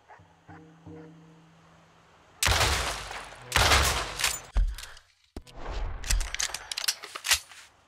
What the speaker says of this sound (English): Shoot the lock, come on!